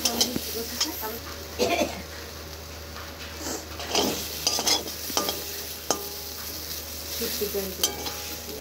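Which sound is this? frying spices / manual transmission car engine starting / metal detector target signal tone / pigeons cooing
frying spices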